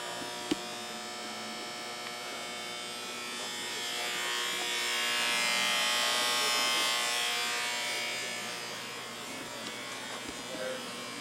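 Large electrical power transformers give off a steady, harsh hum with a dense buzzing texture that swells louder midway and then eases, close and continuous, with no clear speech over it.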